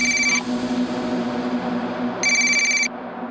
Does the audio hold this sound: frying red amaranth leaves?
no